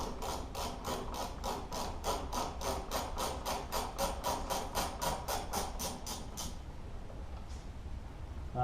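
A ratchet wrench clicks in a fast, even series of ratchet strokes while loosening bolts on a motorcycle windshield, close and clear, then stops and leaves quiet room noise, with no talking.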